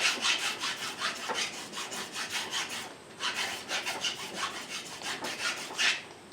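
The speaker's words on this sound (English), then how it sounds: "I'll take a couple of swipes with a file here instead of actually drilling them out" Hand file rasping on a vintage Swedish chainsaw part, about a dozen rhythmic scraping strokes at close range, with a short pause midway.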